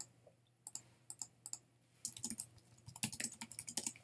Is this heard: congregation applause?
no